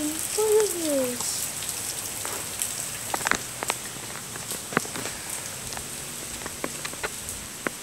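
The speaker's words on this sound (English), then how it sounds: "this rain is insane" Heavy rain pours down steadily, a dense continuous patter with scattered sharper drops striking nearby surfaces, and a brief voice-like tone near the start.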